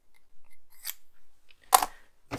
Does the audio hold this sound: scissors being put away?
yes